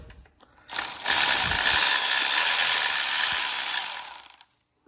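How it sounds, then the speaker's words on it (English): A ratchet works a 12 mm bolt loose on an Acura RSX transmission, giving a close, continuous rapid clicking that runs for about three and a half seconds before stopping abruptly. "I'm loosening those 3 bolts"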